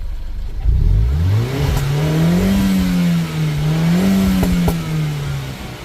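A 2007 Mini Cooper S engine with multiple faults runs unevenly nearby, its pitch wavering up and down with a rough, lumpy idle and slight revs.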